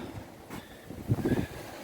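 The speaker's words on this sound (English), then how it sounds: "It's already pretty windy." Gusty wind buffeting the microphone, a low rumbling roar that swells briefly in the middle.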